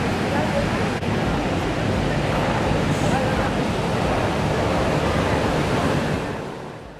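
Intense storm waves pound and surge against the massive MV Smart coal carrier run aground off Richards Bay on Africa's coastline, a steady, loud roar of crashing surf and wind that fades slightly at the end.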